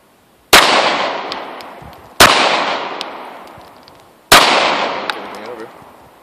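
Sig P226 9mm DA/SA pistol fired in evenly spaced single shots, each a loud sharp crack with a long, fading echo tail; three full shots sound, and a fourth begins at the very end.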